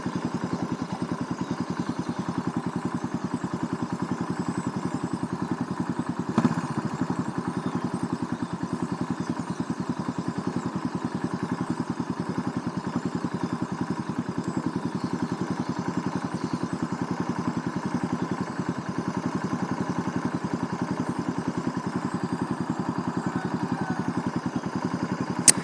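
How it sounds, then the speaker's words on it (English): A 2007 Suzuki S40 Boulevard motorcycle engine idles steadily nearby after warming up, a constant low putter with an even rhythm that never revs up. "now my bike is idling like it usually does"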